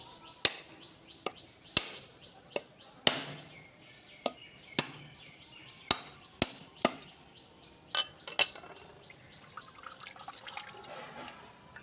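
A coconut is struck open with a blade: a series of sharp, hard chopping knocks at irregular intervals, close and loud, followed by a faint trickle of coconut water near the end, with no talk.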